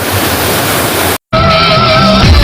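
The Sap Sa Kaeo waterfall at Ban Khao Phluang gives a loud, steady, close rush of falling water, cut by a split-second gap midway.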